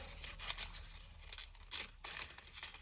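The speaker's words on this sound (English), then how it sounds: "I am then going to take some more foil and cut this" Quiet, close scissors snipping and crinkling through thin craft foil, a few uneven cuts and rustles with no talking.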